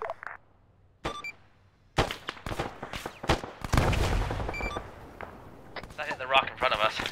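Gunfire and bullet impacts in the Arma 3 video game: sharp shots and cracks scattered across the clip, some near and loud, with a burst of rapid fire and ringing hits, while voices talk over the action.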